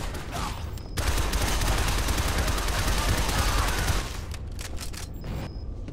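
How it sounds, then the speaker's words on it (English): Enemy gunfire in the Shadow Complex video game: a sustained rapid volley of shots lasting a few seconds, loud and dense against a steady game background, easing back to ambient noise afterward. "How are they shooting me through there and I can't shoot them through there?"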